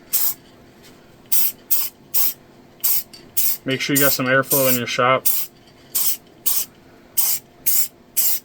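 Short, sharp hissing bursts of liquid sprayed from a spray bottle onto a 3D-printed holster vacuum mold in a workshop, coming in a steady series of quick pumps while someone talks briefly in the middle.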